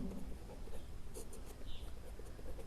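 Pen scratching on paper while a right-triangle geometry solution is written out, soft and close, in short irregular strokes with faint room noise.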